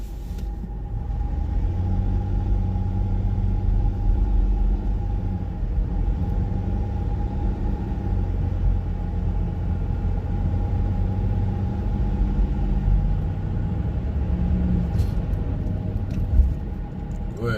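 A truck drives past on a road outside, a steady loud engine rumble and tire roar that holds throughout with a brief bump near the end.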